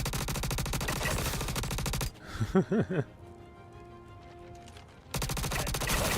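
Gunfire in the first-person shooter game Star Citizen: dense, loud bursts of automatic fire for about two seconds, a brief lull with a few softer tones, then another sustained loud burst.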